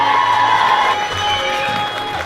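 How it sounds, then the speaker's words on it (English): Students in Cookstown cheer and shout in a loud, close crowd at a charity cycling event, a brief burst of high voices and whoops that stays sustained without pause. "Will you hear the students cheer in Cookstown?"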